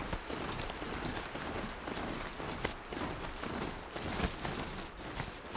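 Mount being ridden in Horizon Zero Dawn, with steady rhythmic hoof-like footfalls over a continuous dense background wash, moderately loud and alone.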